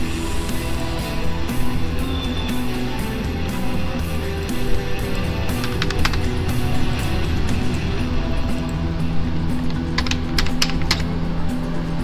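Steady, continuous typing on a computer keyboard, close and loud, with dense rapid key clicks running throughout and occasional sharper keystrokes standing out.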